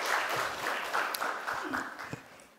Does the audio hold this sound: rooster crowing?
no